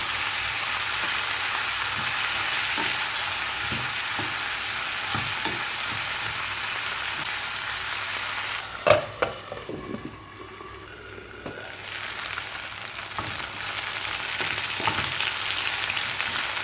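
Brinjal pieces frying in oil in a pan, a continuous close sizzle with occasional stirring clatter and scraping, a brief dip in the hiss midway before it resumes.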